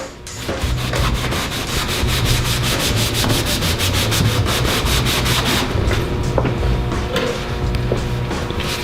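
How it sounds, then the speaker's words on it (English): A mop is rubbed vigorously over a metal surface with methyl hydrate to buff off graffiti tags, giving loud continuous back-and-forth scrubbing and rubbing close by without a break. "We're going to try buffing it with some methyl hydrate."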